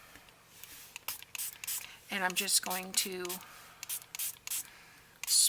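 A spray bottle spritzes water onto 110-pound cardstock in short hissing bursts while someone talks over a papercraft project.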